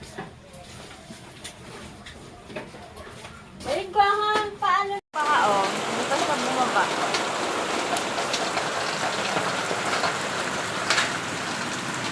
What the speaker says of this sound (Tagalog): Naku, tama na ulan.